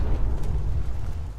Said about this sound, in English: there's huge explosions everywhere.